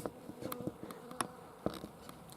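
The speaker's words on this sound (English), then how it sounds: "We have bees flying around." Bees fly about on a sunny January day, soft buzzing drones with several brief nearer passes over a steady outdoor background.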